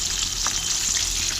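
Potatoes frying in oil give a continuous, close sizzle and crackle with an even bubbling texture throughout, with no talk over it.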